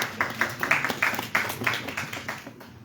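Scattered hand clapping at a government press briefing at a foreign affairs ministry, honouring Sierra Leone's Chief of Defence Staff; a brief patter of claps from a small group at moderate distance, fading out.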